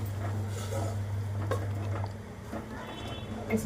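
A spicy Maharashtrian mutton curry boils in a pot with a soft, steady bubbling sizzle over a low hum, broken by a few light clinks, close and even throughout.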